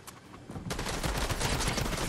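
Rapid automatic gunfire in a zone wars round of a video game shooter, heard as a dense, fast burst of close shots that starts after a brief lull and runs steadily to the end.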